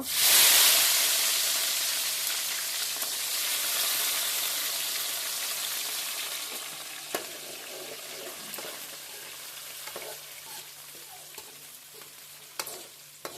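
Chopped onions hit hot oil in a pan for a fish curry, with a loud sizzle at first that settles into steady frying hiss and occasional stirring clinks.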